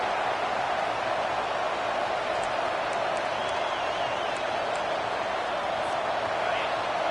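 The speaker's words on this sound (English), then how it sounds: "Listen to this crowd just shaking the girders of this place, trying to help their defense." A football stadium crowd roars steadily to back its defense, a dense and constant wall of noise. A commentator's voice sits faintly beneath it.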